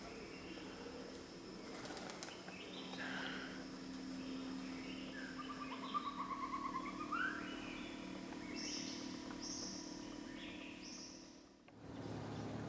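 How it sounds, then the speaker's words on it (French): Pigeons cooing and calling inside a quiet cave in Thailand, soft repeated coos and a few brief chirps echoing at moderate distance over a faint steady hum, ending in near silence. "Pigeons et chauves-souris se partagent les lieux préservés de toute civilisation."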